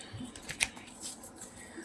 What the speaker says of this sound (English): so let me shuffle our deck.